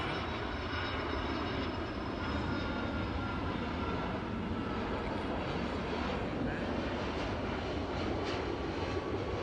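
A fixed-wing airplane passes overhead with a steady, loud engine roar that holds across the whole stretch, broad and continuous with no voices over it.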